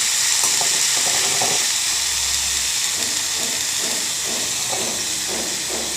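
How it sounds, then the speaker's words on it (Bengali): Boiled figs tipped into a hot pan of cooked spices for a fig curry, setting off a loud, continuous close sizzle and hiss with faint stirring scrapes, no voices. "সিদ্ধ করা ডুমুরটা এবার ঢেলে দিলাম।"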